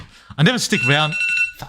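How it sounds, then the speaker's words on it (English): An alarm tone sounds steadily beneath a man's loud, excited talking, its high electronic ring blending with his speech for about a second. "that's my alarm. It's telling me to go."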